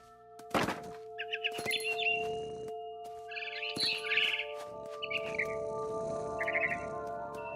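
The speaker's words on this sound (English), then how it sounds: "Then I heard chirping outside my window. It was a barn swallow going back to her nest." Barn swallow chirps in the game What Remains of Edith Finch: short bright twittering bursts repeat over a steady game drone, with a few soft thumps between them.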